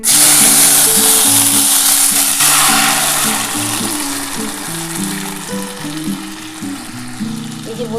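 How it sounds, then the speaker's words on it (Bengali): Loud, steady sizzling as dal is tipped into hot oil with dried chilli and whole cumin, a rushing fry that stays strong throughout with music playing in the background. "এবার আমি কিন্তু ডালটা দিয়ে দিচ্ছি।"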